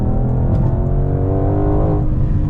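Shelby GT500 V8 roaring under acceleration while driving, a loud, deep, steady engine drone with rising harmonics that eases off near the end, heard alone without talk.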